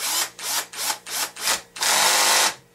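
A power tool drives a screw back in while installing a CV driveshaft on a Baja, with five short whirring bursts followed by one longer sustained run, close and loud.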